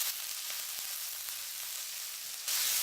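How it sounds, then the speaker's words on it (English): Chopped onions sauté in hot olive oil in a wok, a steady close sizzle and crackle with a few soft stirring knocks, louder and brighter in the final half second. "Once the oil is hot, we'll add our chopped onions."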